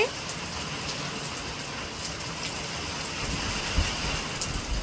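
Heavy storm rain pours down steadily and evenly, a dense hiss of drops drumming on surfaces with no pauses.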